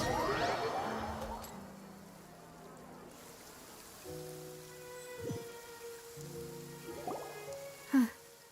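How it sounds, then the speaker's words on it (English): Steady soft rain hiss from the Genshin Impact video game, set in the Fontaine region, fills the opening seconds, then continues faintly beneath tonal game music and chimes. "It's been raining non-stop for a few days now."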